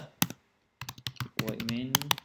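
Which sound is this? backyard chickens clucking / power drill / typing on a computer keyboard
typing on a computer keyboard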